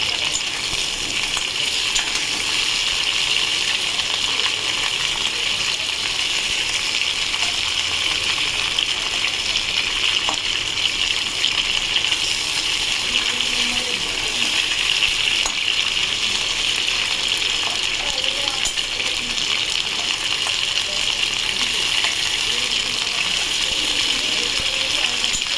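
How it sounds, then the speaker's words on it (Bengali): Crab sizzles in a pan of oil, a steady close hiss and crackle that continues unbroken throughout, with a voice speaking over the frying. "বেশি ভাজলে আবার করা হয়ে যাবে, তো সামান্য ভাজবো।"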